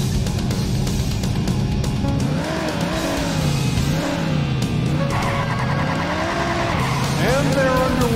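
Race car engines roar and whine continuously in Daytona USA on the Sega Saturn, with rising and falling revs and tires squealing through skids throughout.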